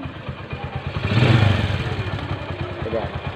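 A Bajaj motorcycle engine with hard-starting trouble, running at a steady idle with a rhythmic putter and clatter that swells briefly as it revs slightly, heard up close under faint talk.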